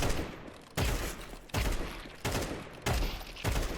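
Short bursts of gunfire from the video game Counter-Strike 2, about five rapid-fire volleys in quick succession, each sharp and loud, decaying briefly before the next.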